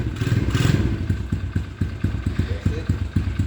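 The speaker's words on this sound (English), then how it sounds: "this is what my dirt bike sounds like" A dirt bike engine runs close by with a rough, uneven idle, steady low thumping pulses and a little mechanical clatter, loud and alone.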